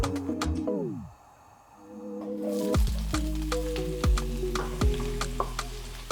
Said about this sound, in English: we're gonna start frying our stuffing ingredients